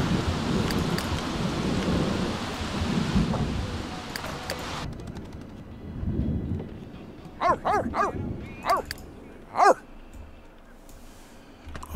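Several short barks from a dog in The Sims 3, standing out clearly at close range after a patch of rain and thunder-like game ambience, with brief gaps between them.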